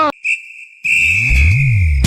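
A person whistles two high steady tones close to the mic, a short one and then a long sustained one, with a low hum underneath.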